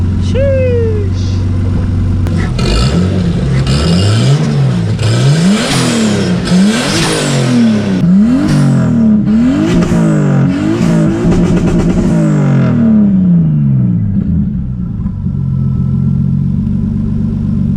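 A Chevy S10 pickup with a swapped-in 5.7 Vortec V8 is driven hard, its engine revving up and dropping repeatedly through gear changes, loud and close, with a voice briefly audible.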